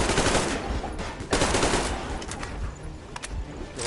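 Dense, rapid machine gun fire in the video game Metro Exodus, loud and close, rattling in sustained bursts with brief gaps.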